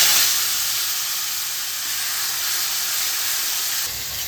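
Onion paste hits a hot pan and sizzles in a loud, continuous close hiss that holds steady, then drops slightly near the end.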